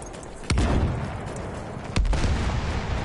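Two loud rifle shots in a video game, each a sharp bang with a rolling decay, spaced about a second and a half apart over a low background rumble.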